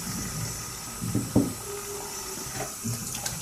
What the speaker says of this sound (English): This squeegee mechanism, that just requires a little bit of a rinse down.